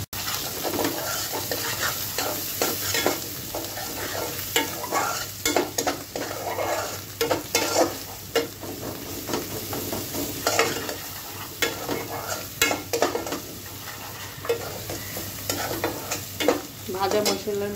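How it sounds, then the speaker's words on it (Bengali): Tomato and light spices fry in oil for a rohu fish curry, a continuous close sizzle with frequent scraping stirs of a spoon against the pan, with no talking. "টমেটোটা দিয়ে একটু কষিয়ে নিচ্ছি"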